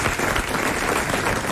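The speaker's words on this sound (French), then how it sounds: "Nous applaudissons Madame Tanouji de Charleroi." Studio audience at a 1993 French television game show breaks into steady, dense applause, a continuous wash of many hands clapping at close range with no talk over it.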